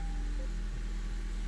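A Honda Civic engine idles with a steady low hum and faint mechanical vibration, heard close and continuous with no voices.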